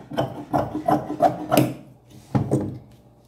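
Scissors cut out a heart shape from reused fabric with about six crisp, rhythmic snips close by, a short pause, then one more snip, with no voices.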